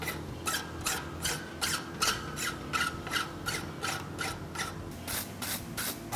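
A file rasps along the edges of a forged draft horseshoe clamped in a vise, making about a dozen quick, evenly spaced scraping strokes, close and fairly quiet, with no talk.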